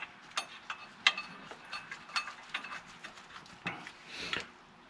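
Clutch bolts are started by hand and threaded in, giving a string of soft clicks, ratchet-like ticks and metallic taps at close range against a quiet garage background.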